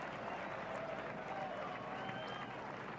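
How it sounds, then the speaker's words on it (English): Golf crowd applause as Hadwin finishes at 11 under at the RBC Canadian Open, a soft, distant patter of clapping under a commentator's voice. "he'll hear the applause"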